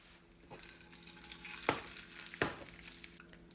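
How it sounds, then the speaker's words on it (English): Mustard seeds, cumin, garlic, red chilies and curry leaves fry in hot oil for a dal tempering, giving a steady crackling sizzle with two sharp spitting bursts of spluttering, close and fairly quiet, no voices. "Let's fry them nicely and add into our dal."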